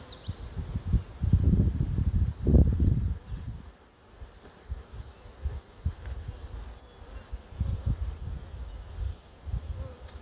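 Honeybees buzz in a soft, continuous drone during a beehive inspection, with low rustling and handling noises of frames rising and falling close by.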